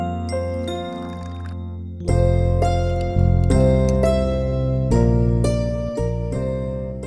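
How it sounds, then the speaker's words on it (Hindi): Puja bells ring continuously during a Hindu morning prayer at home, a bright rhythmic jingling and tinkling layered over a sustained tonal drone, fairly loud and close with repeated strikes and no talk. "रोज सुबह घंटी की आवाज और इसकी बड़बड़ सुननी पड़ती है मुझे।"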